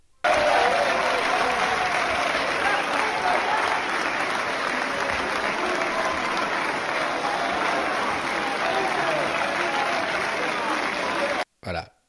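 Sustained applause fills the French National Assembly chamber, many hands clapping loudly and evenly for about eleven seconds before cutting off abruptly, with a brief burst after.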